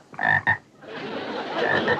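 A frog croaks in two quick, loud, throaty pulses up close, followed by soft ambient rustling and a faint later echo of the call.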